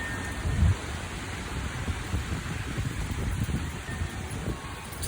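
Heavy rain pours steadily from a tropical storm in western North Carolina, with low rumbles of thunder rolling beneath the constant downpour, one stronger rumble near the start, and no talking.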